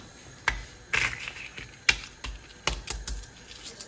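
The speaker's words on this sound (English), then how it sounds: "I'm just going to peel all these eggs that are completely cooled down" Cooled boiled eggs being peeled by hand: a series of sharp, close shell cracks and crinkly taps at an irregular rhythm, with quiet gaps between the bursts and no talking.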